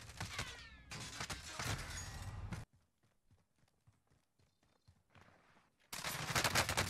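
Gunfire from the video game Call of Duty Warzone, with loud bursts of shots at the start and end separated by a quiet stretch of faint clicks and soft sounds.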